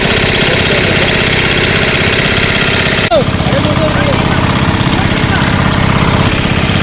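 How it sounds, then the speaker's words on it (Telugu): Two engine-driven water pumps filling a fish pond run throughout, a loud continuous droning mechanical rumble with a brief knock partway through and no pause. "చేపలకు గుంతలో 2 ఇంజన్లు పెట్టి నీళ్ళు వేసుకొస్తున్నారు."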